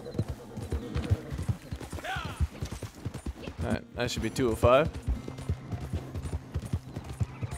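Rhythmic hoof clip-clops of a horse trotting in Red Dead Online, steady and close, with someone talking over them.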